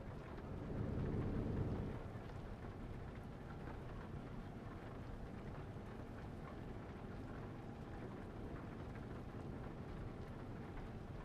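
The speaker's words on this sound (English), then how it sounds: "it's amazing that it still does the rain when it's obviously sunny out" Rain patters steadily in Euro Truck Simulator while a truck drives along a road, a constant low hiss and rumble with a slightly louder burst near the start.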